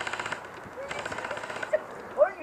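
Airsoft guns firing during an outdoor skirmish game, a faint rapid patter of shots in quick bursts with a couple of sharper pops, while people talk nearby.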